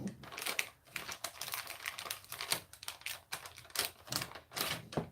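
Paper being folded and tightly creased to line a soap mold, a quick series of close, crisp crinkles, rustles and sharp taps in uneven bursts, fairly quiet and with no talking.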